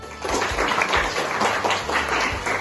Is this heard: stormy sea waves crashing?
no